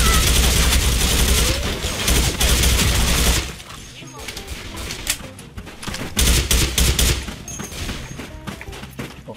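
A FAMAS Black assault rifle fires in the shooter game SF2 in loud, rapid bursts for several seconds. After a brief drop, more scattered shots and bursts follow, with faint voices in the background.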